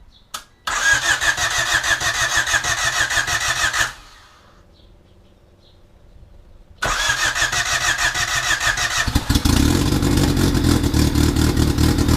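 A turbocharged Honda D16Z6 engine cranks and fires, runs loudly, cuts off into quiet, then restarts and settles into a steady, rough idle that grows louder near the end, close up with no talking.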